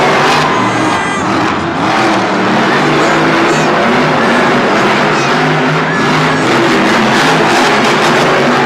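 Monster trucks racing head to head at a Monster Jam show in San Diego, engines roaring loud and steady across the whole stretch with revving swells and a constant crowd-filled arena wash.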